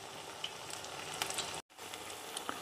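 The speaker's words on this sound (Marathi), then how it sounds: "आपल्याला गोल्डन ब्राउन रंग येईपर्यंत तळून घ्यायचे" Corn cutlets frying in oil in a pan over a medium gas flame, a steady soft sizzle with small pops and crackles, close and continuous apart from a brief cut.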